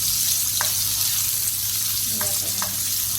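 Garlic and onion sauté in a hot pan with a loud, dense, continuous sizzle and a few light stirring clicks, close by with no speech.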